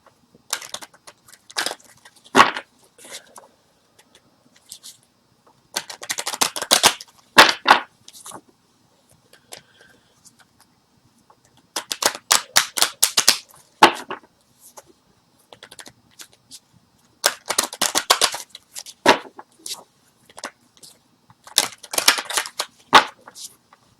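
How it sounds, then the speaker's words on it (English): A deck of angel oracle cards is shuffled by hand at close range, the crisp riffling and slapping coming in four or five short bursts with quiet gaps between them. "questions right now while I'm shuffling the cards"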